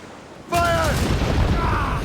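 Ship cannons on a naval vessel in Assassin's Creed Rogue open fire with a sudden heavy boom that rolls into a sustained rumble, with a brief shouted voice over the blast.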